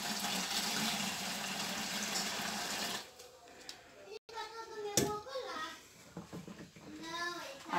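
Hot water for dissolving caustic soda, poured steadily for about three seconds while making homemade liquid soap; the rushing stream ends and a voice then talks over quieter handling sounds.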